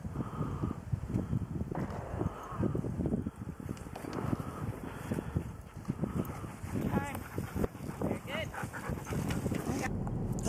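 Husky sled dogs bark in a steady, busy chorus at a sled-dog race in Michigan, carried over constant outdoor wind noise while people talk nearby.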